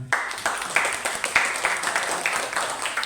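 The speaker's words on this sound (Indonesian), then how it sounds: "Tepuk tangan untuk semuanya." An audience of teachers at an Indonesian school event applauds, a busy patter of many hands with a few sharper claps standing out, continuous for a few seconds.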